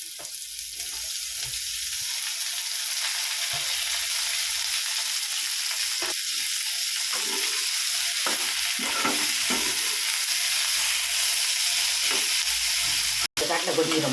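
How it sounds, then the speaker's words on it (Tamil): Tomato, curry leaves and coriander frying and being stirred in a pan, a continuous sizzle broken by repeated scraping strokes of the spoon, close up, with a sharp click near the end. "இப்போ தக்காளி கருவேப்பிலை கொத்தமல்லி போட போகிறேன்"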